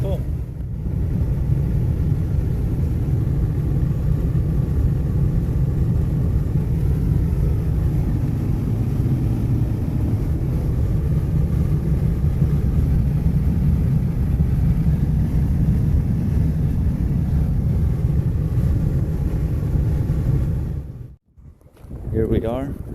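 A vehicle drives along a road with a steady, close, low rumble of engine and road noise, plus wind, then a brief dip near the end.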